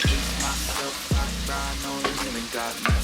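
Blended mixture dropped into hot oil, frying with a steady sizzle broken by a few sharp clatters of utensils against the pan, close up, no talking.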